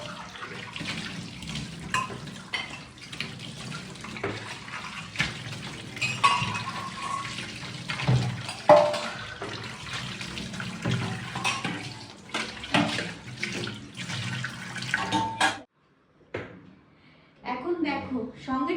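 Tap water running into a kitchen sink while dishes are scrubbed and rinsed, with clinks and scrapes throughout, close and steady, stopping briefly near the end.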